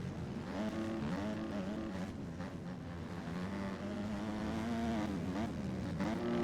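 Kawasaki motocross bike racing in a B Class moto, engine droning and revving continuously with rising and falling pitch as it works through corners, loud and steady throughout.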